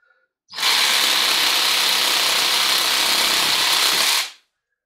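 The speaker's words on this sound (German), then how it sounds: "Und dazu habe ich mir jetzt eben die elektrische Säge geholt." An electric power saw cutting branches runs loud and steady for about four seconds, a continuous buzzing whine that starts and stops abruptly.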